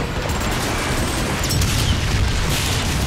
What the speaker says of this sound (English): I didn't do anything to deserve a tank shooting at me